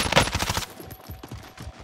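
Rapid bursts of automatic gunfire in a trio squad battle video game, loud and dense at first, then continuing as quieter, more distant repeated shots.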